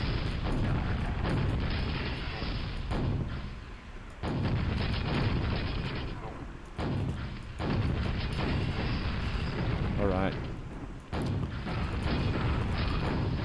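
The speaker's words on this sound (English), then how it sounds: "Use as many rockets as you need" Rockets blast in the Quake mod Arcane Dimensions during a tough fight: loud, heavy explosions follow one after another, each booming burst separated by brief gaps, with no talk over them.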